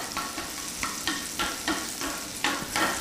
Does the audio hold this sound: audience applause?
no